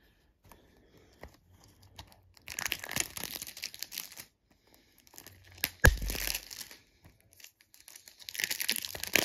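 Christmas present packaging torn open by hand: several loud bursts of ripping and crinkling paper, with quieter rustling and handling between them and a final burst near the end, close up and with no talk.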